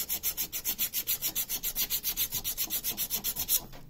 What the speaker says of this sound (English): So you take your sandpaper, it slides right in behind here, and you can just give it a little rub there until most of the marks seem to be gone.